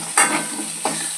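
A couple of cashews sautéing in a pan for mutton kuzhambu, bright close sizzle with two quick stirring scrapes over a steady frying hiss.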